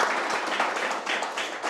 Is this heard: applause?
yes